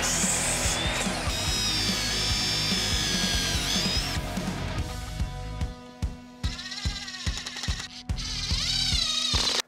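Power drill driving into a wooden board while building a garden bed, a loud continuous whine for several seconds, then short repeated bursts with pauses.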